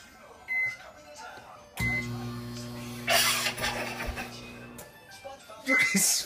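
A microwave oven runs with an iPod inside, giving a steady electrical hum for about three seconds, overlaid by crackling, buzzing bursts and followed by a click, with voices nearby.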